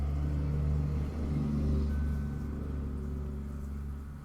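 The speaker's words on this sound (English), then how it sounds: "That was a really loud dump truck." A loud dump truck rumbles past close by, its low engine drone swelling and then slowly fading, with no voices over it.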